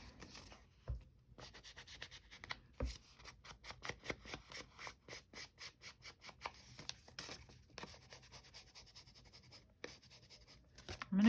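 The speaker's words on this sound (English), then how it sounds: "I'm going to go ahead and ink all the way around this" Ink applicator being rubbed around the edges of a floral journal page, a long run of quick, dry scratchy strokes in steady rhythm, close and quiet with brief pauses.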